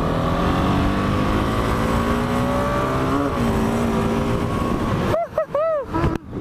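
Dirt bike engine droning steadily at high revs while riding at speed, loud and close throughout, then breaking into a few rising and falling rev bursts at the end.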